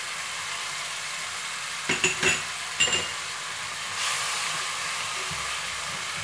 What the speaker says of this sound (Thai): แล้วก็ผัดให้วุ้นเส้นสุกนะคะ